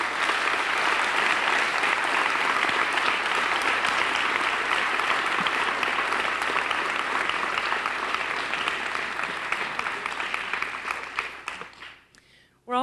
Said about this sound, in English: So please give a round of applause for all the teams that competed throughout the week.